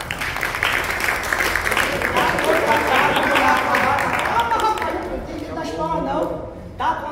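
Applause from a live audience at a circus-style solo show, a sustained wash of clapping and crowd noise lasting several seconds and fading toward the end, with voices audible underneath.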